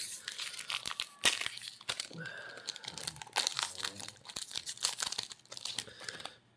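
Crinkling plastic booster pack wrapper for Magic the Gathering Marvel Super Heroes cards, torn open with sharp tearing and crumpling bursts over several seconds, close and fairly loud.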